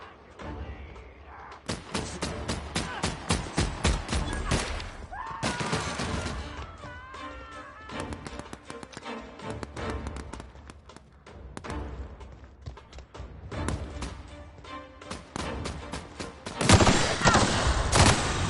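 Gunfire in the sci-fi video game The Outer Worlds, rapid bursts and single loud shots in close, dense clusters across the stretch, with a heavy volley near the end and little talk.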